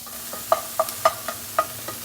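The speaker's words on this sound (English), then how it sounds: "You can hear that healthy sizzling going on" Onions fry in oil in a pan, crackling under a sizzling hiss, with several sharp pops and a stirring scrape.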